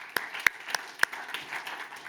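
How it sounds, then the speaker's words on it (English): Applause from a conference audience after speakers finish, a thin scatter of sharp individual claps rather than a full roar, fairly close in a hall. "Big round of applause."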